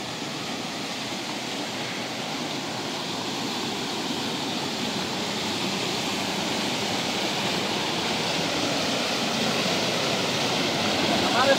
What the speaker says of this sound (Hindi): हमारे सामने आपको बहुत ही सुंदर कलकलाती हुई एक छोटी सी नदी दिखाई दे रही है